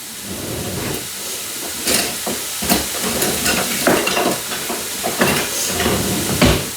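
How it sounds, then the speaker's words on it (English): Thanksgiving stuffing sizzles and hisses steadily in a hot pan while a wooden spoon stirs and scrapes through it in repeated, uneven strokes, loud and close. "Everything needs to be sauteed, and that's how you get all the flavor on everything"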